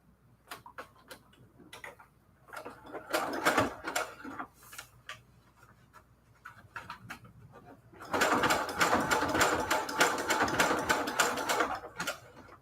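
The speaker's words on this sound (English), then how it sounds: "They have an auto back stitch, and then they also cut the thread." A sewing machine with automatic back stitching and thread cutting runs in two bursts of rapid mechanical ticking and whirring, the second longer and louder, with small clicks and a quiet pause between them.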